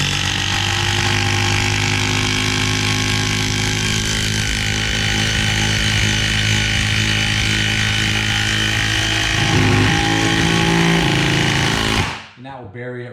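A DeWalt cordless impact driver drives a screw into old wood pieces in one long, loud, continuous hammering buzz for about twelve seconds, then stops abruptly as a voice speaks briefly.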